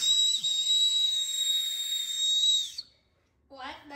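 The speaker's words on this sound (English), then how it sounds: "whistle on your shoe." A whistle built into a New Balance 527 sneaker gives a loud, steady high-pitched tone for nearly three seconds, then stops; a short burst of voice follows after a pause.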